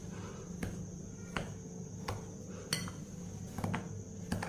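Roasted pearl millet, sorghum, green gram and rice are stirred together in a bowl. A spoon clinks against the bowl in sharp, spaced knocks over a soft, grainy shuffle, with no talking.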